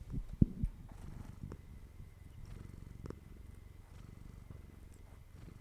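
A cat purrs softly and close by, a low steady rumbling under a couple of brief bumps near the start, faint throughout with no speech.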